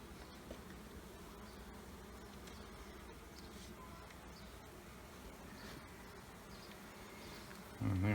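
Honey bees buzz steadily around an open hive in early-season inspection, a faint, continuous droning hum with occasional individual bees passing closer, and a brief louder rumble right at the end.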